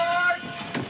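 Passenger train at a station departing for Winnipeg, Ottawa and Montreal, with a sustained rumbling rail-car roll and a faint tonal whine, fairly close and moderately loud, no voices.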